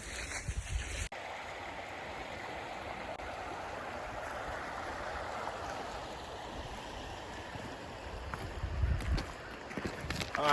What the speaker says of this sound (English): All right, now we're at the creek.